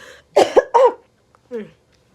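A short cough of two or three close, throaty bursts, followed after a pause by a brief voiced sound, close and fairly loud.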